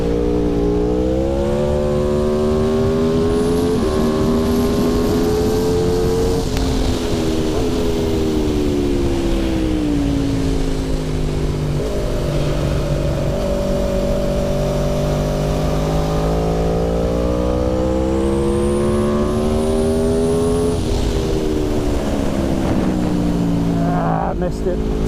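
An Aprilia motorcycle laps a race track, its loud engine note climbing and falling steadily through shifts and braking, a continuous close-up roar with no pause.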